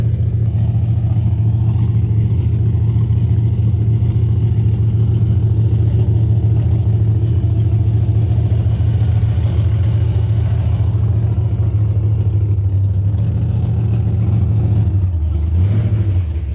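Car engines rumble loud and steady at the M1 Concourse car show, a constant mid-pitched drone that swells near the end as one engine revs up.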